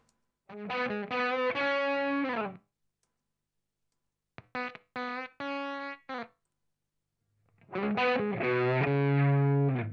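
Heavily distorted electric guitar phrases through Waves PRS Supermodel virtual amps in three bursts with silent gaps, buzzy and fuzzed out, with a slightly robotic, synthetic tone.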